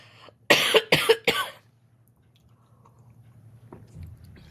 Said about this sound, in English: I knew that cough was coming on.